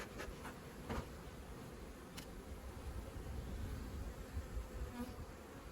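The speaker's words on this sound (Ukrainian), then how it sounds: "Бджоли ще зараз будуть лихі" Dense, steady buzzing of many honey bees swarming close by at an open hive, a continuous drone with occasional louder passes of individual bees.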